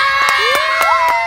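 A group of children shout loudly together at close range in a brief, excited burst of overlapping voices.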